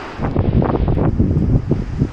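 Strong wind buffets the microphone on the rocky coast of Pico in the Azores while ocean waves surge and wash in the background, a loud, continuous roar with no talking.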